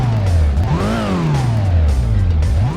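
A Dodge Viper RT10 engine in the original Gran Turismo revs up and down repeatedly, a loud, steady synthetic-sounding drone with rising and falling pitch, heard alone without talk.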